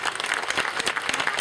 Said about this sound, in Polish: gromki brawa, naprawdę nie bójcie się tych braw,